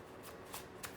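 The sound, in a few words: shuffling and cutting a deck of oracle cards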